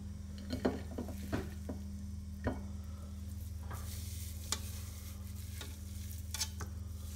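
Minced meat frying with onions in a pan, a soft steady sizzle with a few scrapes and knocks of stirring, fairly quiet and close, with no voices.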